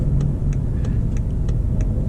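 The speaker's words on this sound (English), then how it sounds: "Now it's downshifting for us. We hear the rev matching" A BMW 540i with a torque converter automatic downshifting and rev matching while coasting, heard from inside the cabin as a steady engine drone with brief rhythmic blips of revs.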